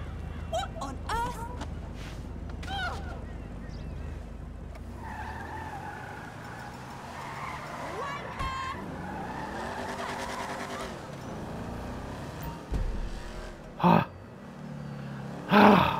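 A car in GTA 5 revs and drives with sustained tire skidding and squealing, engine pitch sweeping up and down, ending in sharp bumps and impacts near the close.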